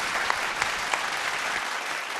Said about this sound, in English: Please put your hands together for Danny and team from Trends Beauty International.